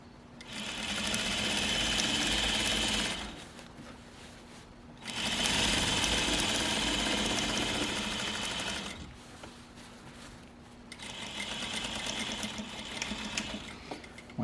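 A sewing machine stitching fabric runs in three steady, loud bursts of rapid mechanical whirring, with short quiet pauses between them.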